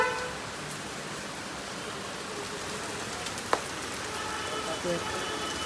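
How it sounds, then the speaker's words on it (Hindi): Steady rain falls during a monsoon outing, a constant broadband hiss of drops on surfaces throughout, with a sharp knock partway through. "बारिश आ चुकी है"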